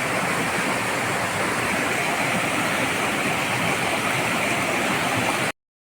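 A steady, loud rush of falling water from Binadlan Falls, continuous and broadband with no breaks, cutting off abruptly at the end.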